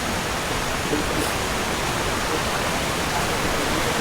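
A small river flows toward a waterfall, a constant, broad rushing hiss of water that stays steady and close throughout with no voices.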